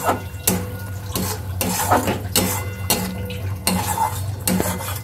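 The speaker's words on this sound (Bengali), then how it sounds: "তো এটাকেও ভালো করে নেড়ে চেড়ে মিক্সড করে নিচ্ছি।" A spoon scraping and stirring a fish curry mixture with ground coriander and turmeric in a metal pan, giving repeated rhythmic clinks and scrapes over a soft low sizzle.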